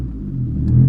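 Loud rumbling exhaust of a Scion tC with an aftermarket muffler, a short rising rev over about a second, close by and raspy.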